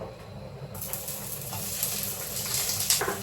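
Onions hiss and sizzle in a hot pan, a steady crackling fry that swells louder after a few seconds, with light stirring sounds.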